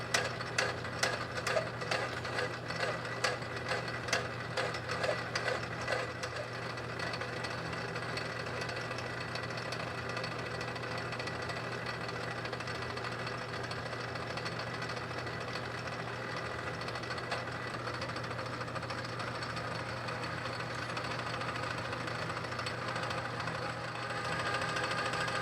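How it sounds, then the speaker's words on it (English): A Subaru CV axle shaft is turned with a high-speed steel cutting tool, giving a steady mechanical hum with a rapid rhythmic chatter at the start that smooths into a continuous, fairly faint drone. "I just wanted to make sure before I hit this with carbide that I can actually cut it with high-speed steel"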